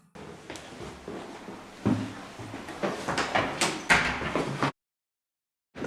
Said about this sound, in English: as I go to reach out to open the door, it slams shut by itself.